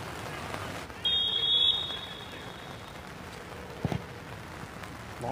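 Steady rain falls on an outdoor soccer field during a youth U14 match, a continuous hiss filling the background with a brief high whistle-like tone and faint distant activity over it.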